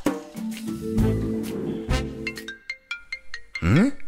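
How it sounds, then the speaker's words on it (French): A phone ringtone plays a short series of bright repeating electronic tones that start abruptly after preceding music and effects, ending in a rising swoop. "Le téléphone sonne."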